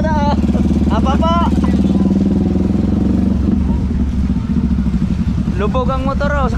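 Motorcycle engine running and revving up close, a loud continuous drone that rises and falls, with people talking over it at the start and end.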